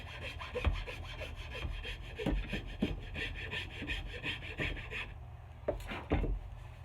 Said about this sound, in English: So just take your rasp, and we're going to take that off.